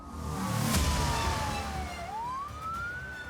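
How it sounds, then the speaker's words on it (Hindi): A wailing siren rises and falls in a long sweep during an Iranian attack on Ashdod, Israel, loud and steady for a few seconds with no talk. "पूरे इजराइल में वॉर सायरन बज रहे हैं।"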